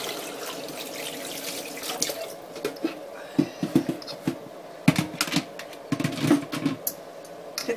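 Pickles being rinsed of salt brine under a running kitchen tap, water splashing steadily into a sink with irregular louder splashes and knocks as they are handled, no one talking.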